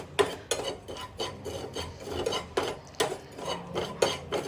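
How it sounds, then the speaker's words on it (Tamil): Avarai leaf powder dry-roasts in a pan while a spoon stirs it, making close, gritty scraping strokes. The strokes repeat in a steady rhythm of roughly two per second with no voices. "எந்த அளவுக்கு நம்ம அந்த 2 பொருளும் போட்டிருக்கோமோ அதே அளவுக்கு நம்ம அந்த ஆவரி இலை பொடியும் நம்ம அதோடு சேர்ந்து வறுத்து எடுத்துக்கலாம்."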